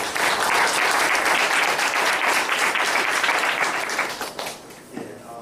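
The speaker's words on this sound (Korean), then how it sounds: "다시 한번 큰 박수를 일단." A lecture audience gives loud, sustained applause that fills the room, then thins out and fades near the end.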